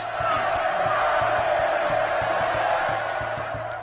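A crowd of onlookers cheers wildly at an Aztec sacrifice, a steady, dense roar of many voices with rhythmic low thumps like drums running underneath throughout.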